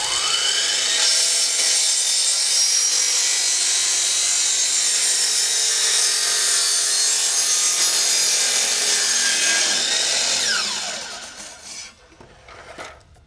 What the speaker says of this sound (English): I'm gonna put it in my miter saw, set my blade on 45 degrees, and I'm just gonna hold that in the center, and I'm gonna cut it straight.